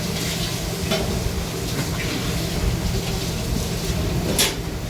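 Loud, continuous sizzling of greens frying in a hot wok, with occasional scraping and stirring sounds throughout.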